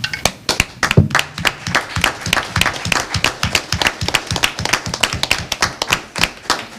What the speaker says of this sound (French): je pense que le maire mérite une main d'applaudissement.